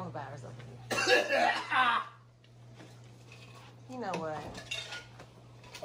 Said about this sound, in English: You know what? I can't help out a cough.